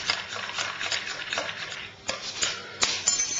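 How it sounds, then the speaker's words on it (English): A spoon stirs milk and sugar for South Indian coffee, steady scraping and light clinking against the vessel with a few sharper taps, close and alone. "you stir the milk, the sugar first"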